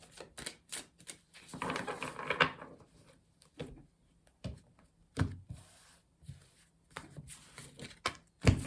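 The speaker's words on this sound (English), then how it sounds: "2 more shuffles please" A deck of tarot cards being shuffled by hand during a tarot reading, a close, dry riffling burst followed by sharp, irregular taps and clicks as the cards are squared and handled, with no talking.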